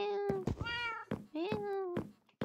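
A cat meows several times in a Minecraft survival game, with clear, drawn-out, rising calls that stand alone between brief pauses.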